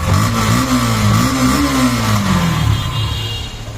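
A 2022 Yamaha FZ-S V3 150cc motorcycle revs loud and close, its steady exhaust drone rising and falling in pitch through a single throttle blip before easing off.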